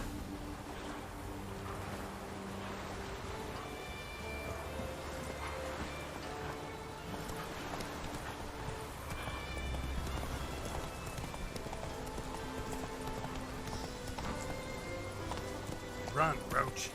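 Roach the horse gallops in The Witcher 3, steady clip-clop hoofbeats running through the whole stretch alongside game music and a faint whinny, with no talk over it.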